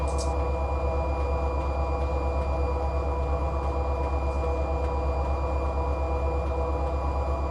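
Freight train carrying potash in Run 8 Train Simulator, a steady continuous rumble and hum of the locomotive running, no talking.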